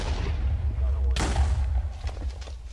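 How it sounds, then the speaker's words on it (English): A single loud explosive boom in Minecraft Team Skywars over a rumbling low background, followed by a few fainter thuds and crackles as the blast fades. "They're bombing us."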